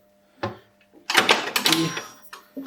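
Two 17 mm wrenches tighten the locknuts on a bicycle rear hub, giving a sharp metallic clank followed by a dense cluster of clattering, ratcheting metal knocks close by.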